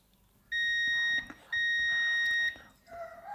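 A multimeter on continuity test beeps while its probes touch the pins of a shorted MOSFET on an LG LED TV board: two steady, loud high tones, each about a second long, with a short gap between them.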